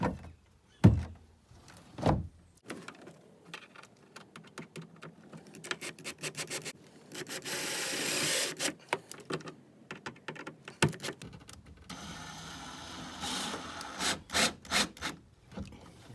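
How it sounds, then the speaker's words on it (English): A screw is driven into an aluminum jon boat hatch, giving a whirring, grinding drive burst with scraping and knocks around it, close and uneven, followed by more tool buzzing and handling. "Screwing into aluminum."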